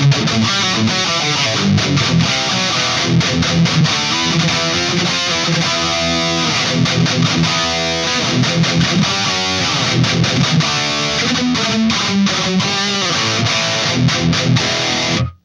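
Mesa Boogie Mark IV amplifier lead tone with treble maxed, bass and mids off and lead drive up: a saturated distorted electric guitar playing a fast riff, loud and continuous, ending abruptly.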